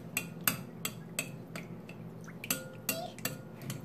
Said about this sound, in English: Whisk, whisk.